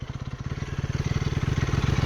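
A KTM Duke 250 third-generation motorcycle is ridden with a steady, pulsing engine note that rises slightly in loudness. It runs close and continuous, with no voices.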